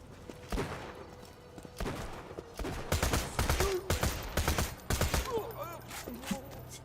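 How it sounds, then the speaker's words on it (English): Repeated bursts of SMG fire in Borderlands 2, close and punchy, quickening into rapid clustered shots mid-stretch before easing off, with game effects chiming in between. "this SMG is not bad."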